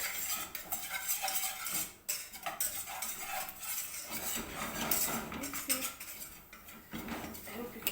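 A whisk stirring white sauce in a pan for pasta, with steady close metallic scraping and clinking against the pan that runs throughout, loud and continuous with brief pauses.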